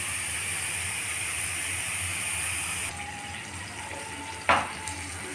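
Mutton curry with coriander sizzling in a pan, a steady loud hiss for about three seconds that then drops to a softer sizzle, with one brief sharp scrape near the end.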